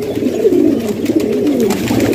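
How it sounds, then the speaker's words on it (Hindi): Mughal pigeon cooing, an off-colour fancy bird, a continuous low throaty warble close by, steady and fairly loud with no other sounds. "बदरंग मोगला कबूतर है ये मेरा"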